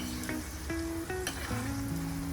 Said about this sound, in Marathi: इथे मी अख्खा लसूण थोडा कुटून घेतलाय. तो थोडा तळून घेते मी आता.